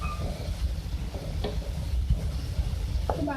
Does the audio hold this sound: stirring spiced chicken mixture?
yes